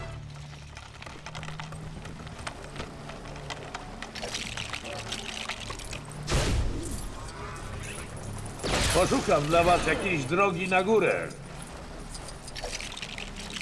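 Water pouring and splashing in the LEGO Star Wars: The Force Awakens video game, a rushing stream that swells in surges partway through, with someone speaking over it.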